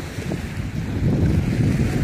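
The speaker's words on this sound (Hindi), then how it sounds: "इस पानी की वजह से बहुत ठंडी हवा चल रही है" Cool wind blowing steadily beside Dumat al-Jandal lake in Saudi Arabia, a loud continuous rushing buffet across the microphone that swells slightly toward the end, with no voices.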